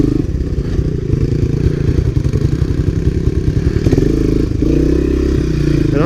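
Honda three-wheeler ATVs, a 1985 and 1986 Big Red and a 1985 ATC250SX, rumble loudly and steadily on a trail ride, engines droning close with rattling clatter and a brief rev change partway through.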